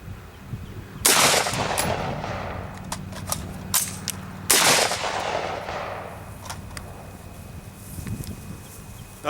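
An X95 rifle fires during reloading drills: two loud, sharp shots a few seconds apart, with scattered metallic clicks and clatter of magazine handling between and after them.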